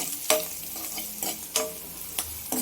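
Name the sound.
frying ground coconut and green chili masala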